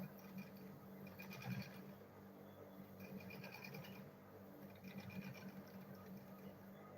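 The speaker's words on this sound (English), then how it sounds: "I'll sew this side now." A sewing machine stitches the side seam of a handmade lunch bag in a steady run of rapid needle strokes, quiet and close, with a short louder burst early on and a low motor hum throughout.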